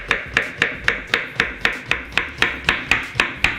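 A knife chops through zucchini on a cutting board in a steady, even rhythm of about a dozen sharp, close strokes, each a crisp thud with a brief tail, with no voices.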